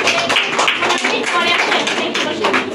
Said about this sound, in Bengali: বাবুর জন্য সবাই করতালি দাও।